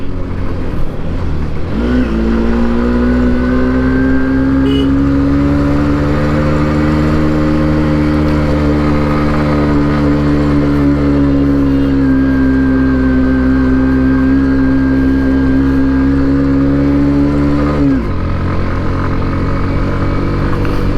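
A motorcycle engine labours steadily up a steep hill road for most of the stretch. It starts with a rising roar, holds a strained, sustained hum for about fifteen seconds, then drops away, with no speech.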